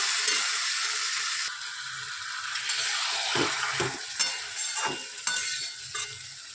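Fish curry made with loté (Bombay duck) sizzling in a pan as it is stirred and sautéed, a steady close frying hiss broken by repeated scraping strokes, with no talking.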